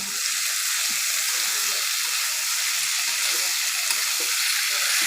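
Banana flower with river prawns frying in a pan, a steady broadband sizzle running throughout with faint scraping stirs underneath, close and continuous.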